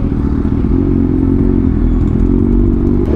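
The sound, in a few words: motorcycle riding after fresh Amsoil oil change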